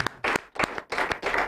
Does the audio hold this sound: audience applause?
yes